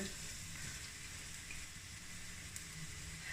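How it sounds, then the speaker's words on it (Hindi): Crushed onion frying in a pan, a soft steady sizzle with faint crackle, quiet and continuous with no voices. "प्याज भी हो चुका है हल्का सा फ्राई"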